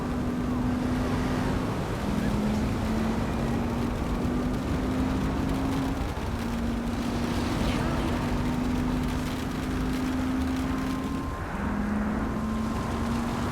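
Car engine in Saints Row 3 droning in a repetitive loop, a steady low hum that restarts every few seconds with slight pitch steps, mixed with windy road noise and no talking.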